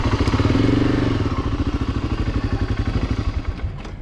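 A motorcycle engine idles up close in rapid, even pulses near the La Quiaca border crossing into Bolivia, steady and fairly loud before easing slightly toward the end.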